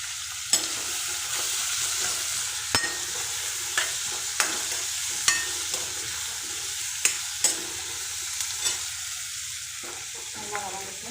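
Onions sauté in a pan for a crab gravy, a soft even sizzle under repeated sharp scrapes and clicks of a stirring utensil at irregular intervals, close up and without speech.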